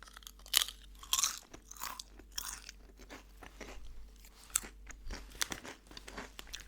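Cheese and onion flavoured potato chips from Egypt crunch loudly right at the mic, with crisp bites, steady chewing and occasional bag crinkles throughout.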